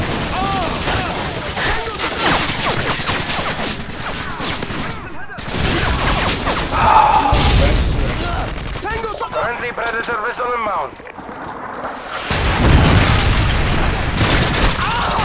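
Heavy gunfire rattles through a Modern Warfare 2 match in bursts and booming shots, loud and continuous for most of the stretch, with a voice talking over it.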